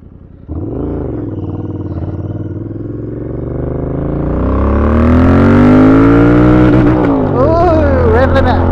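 A Royal Enfield Interceptor 650 Scrambler motorcycle revs up loudly and steadily to its rev limit, the engine note climbing over several seconds and bouncing off the limiter near the end, heard up close on an off-road ride.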